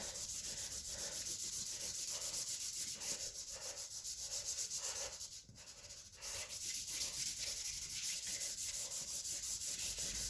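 Soft pastel rubbed into paper by hand, a steady rhythmic scrubbing that runs continuously at close range with a brief pause midway.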